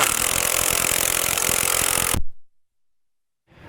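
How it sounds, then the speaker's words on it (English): An impact wrench removing the hardware from a curved equalizer on a trailer's double-eye spring setup, giving a loud continuous hammering buzz that cuts off abruptly, followed by silence. "with my wrench on one side and my impact on the other, we'll go ahead and get this hardware taken off"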